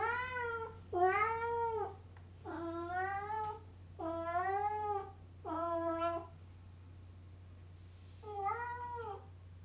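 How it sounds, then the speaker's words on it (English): A cat meows persistently and clearly, six drawn-out calls spaced a second or so apart, fairly close and alone over a low steady hum indoors. "persistent meowing in the background of this video"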